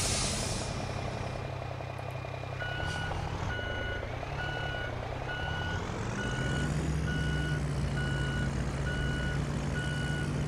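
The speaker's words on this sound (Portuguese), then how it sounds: "vamos estacionar o nosso caminhão em algum lugar" Steady reversing beeps from a Mercedes-Benz 1620 truck being parked in a truck-driving game played on a Logitech G27 wheel, sounding at even intervals over a constant idling diesel engine drone.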